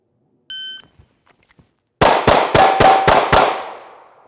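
SIG P365-MACRO pistol on an outdoor range, a brief shot-timer beep followed by six sharp, loud shots fired in quick, fairly even succession, the last one ringing out briefly.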